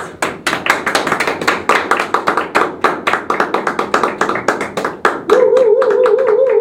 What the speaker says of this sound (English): So please give applause to Brian Burgess.